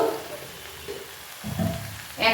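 A banana flower and prawn curry sizzles in a pan as it is stirred, with soft frying hiss and a few louder scraping stirs toward the end, near and fairly quiet.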